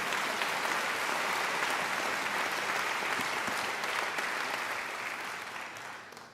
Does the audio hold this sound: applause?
yes